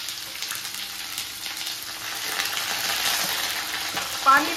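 Sliced onion and green chili frying with whole spices in a home kitchen pan, a steady close sizzle with light stirring scrapes and a brief louder crackle near the end.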